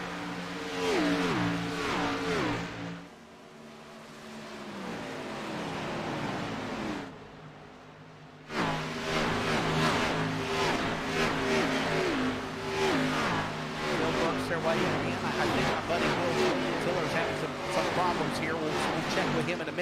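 Race car engines in a sim racing game of an Xfinity Series race at Indianapolis Motor Speedway drone and rev continuously under steady commentary, with a brief quieter dip partway through.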